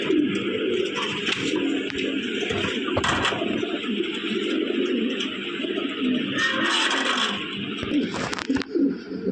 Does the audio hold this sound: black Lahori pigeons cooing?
yes